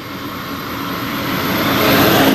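A heavy truck approaches on a roadside in Colombia, its loud engine and tyre roar swelling steadily as it draws near and passes.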